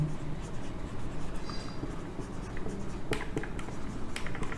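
Chalk or marker writing on a classroom board during a biology lesson: a steady scratchy scrawl with a few sharp taps, close and continuous, with no talking.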